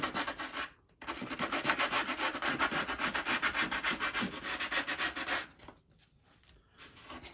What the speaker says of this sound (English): just take the sandpaper to it more